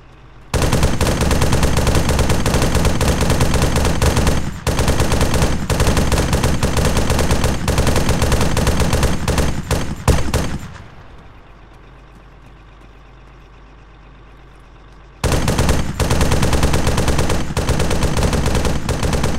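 Bursts of heavy automatic gunfire in a tactical shooter game, loud and continuous for about ten seconds, then a few seconds of quieter rumbling ambience before the rapid firing resumes at full volume.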